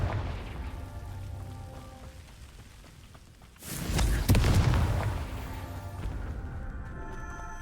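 Confringo fire spell explosion in Hogwarts Legacy, a loud booming blast near the middle that swells and rumbles for a couple of seconds over the game's ambient music.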